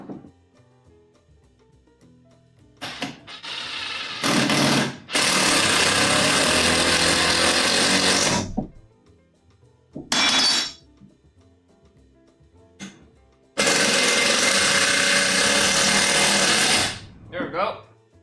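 A power drill drives screws into a wooden support for a lumber storage rack in loud bursts of whirring, several runs of a few seconds each separated by quiet pauses and brief speech.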